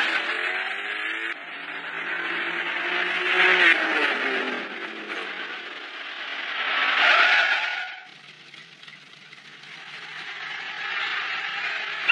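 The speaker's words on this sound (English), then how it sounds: "Listen to that sweet engine." Car engine revving while tires skid and squeal in a high-speed scene, loud screeching swells rising and fading twice over a running engine, close and prominent, with no speech.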